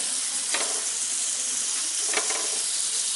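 A sandwich frying in butter in a pan gives a steady, close sizzle throughout, with two soft scraping touches partway through.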